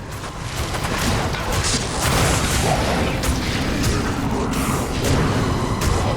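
Corpse explosion in Diablo 2 gives a dense, loud, rumbling burst of blasts and crashing debris that rolls on continuously for several seconds, with no voices.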